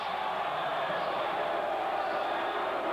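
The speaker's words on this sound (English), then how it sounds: "Crowd doesn't like it" A large arena crowd at a 1996 Penn State versus Michigan State women's volleyball match lets out a sustained, even roar of disapproval that holds steady throughout.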